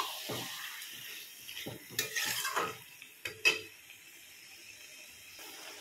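Chicken skin pieces stirred in a frying pan: repeated scraping strokes of a spoon against the metal over a soft, steady sizzle, close and fairly quiet, with no voices.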